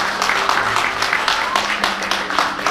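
Applause from guests at a Korean first birthday party held at L Tower, steady dense clapping throughout with a faint voice underneath.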